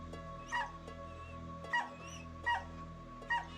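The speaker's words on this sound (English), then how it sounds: "Kim heard the dog barking." A dog gives four short, evenly spaced yelping barks with a whimpering tone, heard at moderate distance over a steady musical drone in a radio-style mystery drama.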